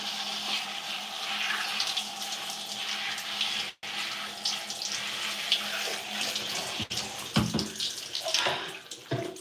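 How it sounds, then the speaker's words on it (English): Water runs steadily from a tap while hair is washed and shampooed, a continuous splashing hiss with occasional sharper splashes and interruptions near the end. "We're only washing once, or shampooing once."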